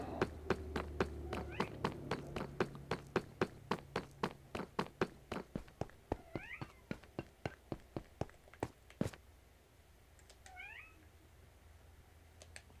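A cat meowing repeatedly outside a closed door, a few short faint meows in the middle distance over a steady series of sharp rhythmic taps that stop near the end.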